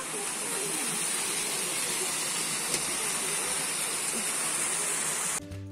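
A waterfall at Rock Garden in Darjeeling pours onto rocks in a steady, dense roar of rushing and splashing water, loud and unbroken throughout, with no talk over it.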